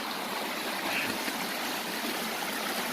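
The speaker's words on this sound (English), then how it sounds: "Now we gotta walk through this river to get across." River water flows steadily at a hiking-trail crossing, a constant close rushing wash with no talk.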